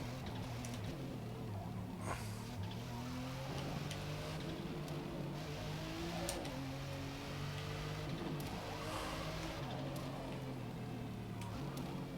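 Continuous loud engine note from a McLaren P1 in Forza Motorsport, its tone stepping up and down with gear changes under a constant rushing layer.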